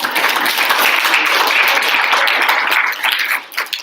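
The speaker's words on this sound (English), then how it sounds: "so another round of applause." An audience at a general body meeting breaks into a loud, steady round of applause, many hands clapping together. It holds strong for about three seconds, then thins out into scattered claps.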